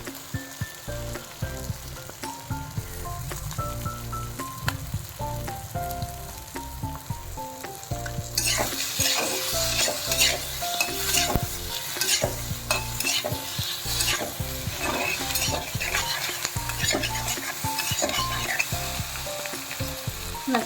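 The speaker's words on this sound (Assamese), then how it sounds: "এইখন হ'লে অকণমান লৰাই দিওঁ, তাৰপিছত অকণমান কেঁচা পিঁয়াজ" A spatula scrapes and stirs a home-cooked dish in a pan as raw onion is added, with a sizzling fry that grows louder and hissier partway through amid rhythmic clatter.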